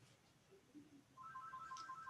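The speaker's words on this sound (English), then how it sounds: "The landline that rings right here." A landline telephone rings in a quiet council chamber, a faint electronic warbling ring that starts midway and repeats in a rapid trilling pattern.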